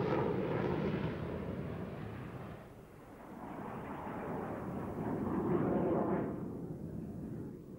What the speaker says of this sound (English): he then started down the runway and lifted the 104 into the air for the first